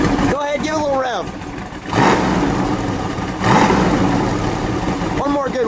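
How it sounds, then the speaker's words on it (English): A black 1969 Plymouth GTX with a 426 Hemi V8 revs in two strong bursts, each swelling loudly and then settling back to a rumbling idle, with voices talking briefly before the first rev and near the end. "Go ahead, give it a little rev."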